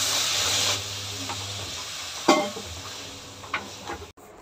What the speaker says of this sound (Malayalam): ഞാൻ ഇച്ചിരി സവാളയും ഉരുളൻകിഴങ്ങും എല്ലാം കൂടെ ഒന്ന് വഴട്ടാനായിട്ട് വെച്ചിട്ടുണ്ട്.